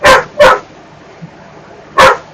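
A dog barks close and loud: two quick sharp barks, a pause, then a third, with only faint background in between.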